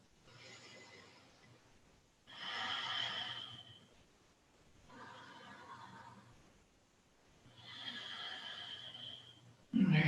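Slow, deep yoga breaths, heard close up: long airy inhales and exhales alternating in a relaxed rhythm over several seconds, soft and unhurried.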